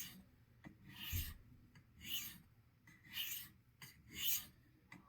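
A chipped wedge straight razor honed on a stone with the spine raised to set a wide bevel, four slow rhythmic rasping strokes, close and quiet, no talk.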